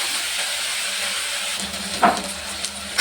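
Chopped vegetables for Iyer-style sambar sauté in a hot pan, giving a continuous, close, even sizzling hiss with a small spatter near the end and no voices over it.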